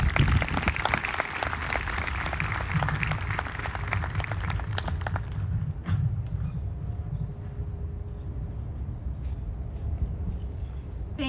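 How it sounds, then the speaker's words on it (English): Graduating class of 2021 applauding themselves at a graduation ceremony, a broad wash of clapping over a low rumble that drops away midway, leaving steady background noise. "Give yourselves a round of applause."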